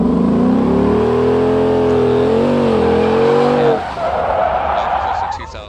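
Gavril Barstow IV car drifting in a video game, a loud sustained engine drone with shifting pitch that drops away near the end into rougher tire and road noise, no talk over it.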